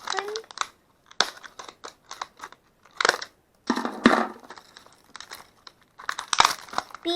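Close-up crinkling and crackling of plastic packaging in irregular bursts, with short pauses and occasional sharp snips.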